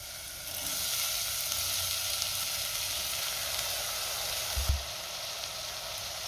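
Tomato and moong dal hit a pan of sautéed ground masala paste, giving a continuous close sizzle and hiss throughout with one brief low knock near the end.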